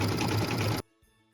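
A sewing machine stitches the front and back of a felt ornament together, a fast steady mechanical whir heard close and alone, stopping abruptly after under a second.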